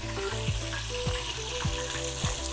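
Pink oyster mushrooms brown in a frying pan, giving a faint, steady sizzle with a few soft regular pops and shuffles close by.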